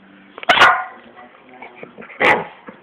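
A puppy gives two sharp, loud yips or barks about two seconds apart, close by, with faint whimpering sounds between them.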